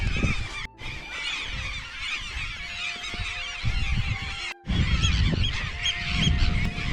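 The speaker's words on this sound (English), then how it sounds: "Terns and seagulls." A dense chorus of terns and seagulls calling at once on an island off the Irish coast, harsh squawks and cries overlapping continuously at fairly close range.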